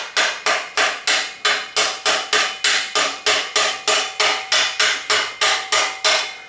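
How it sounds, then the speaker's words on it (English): A mallet taps a wrench to tighten a part on a vintage Terry Prism women's road bike, giving about nineteen evenly spaced, sharp, close knocks in a steady rhythm. "I'll use my mallet to kind of tap it around here"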